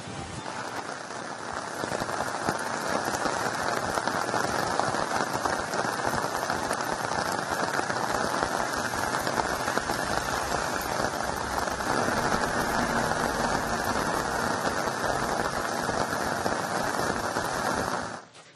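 Heavy monsoon rain pours down across Dakshina Kannada, a loud, dense, unbroken roar of drops on surfaces that holds steady throughout and fades only at the very end.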